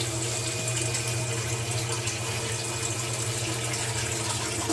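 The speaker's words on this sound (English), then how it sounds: "And there's my water coming back out." Water from a sump pump outlet pipe, being cleared of freezing, runs and drips steadily, a continuous close wash of flowing water throughout with no talk.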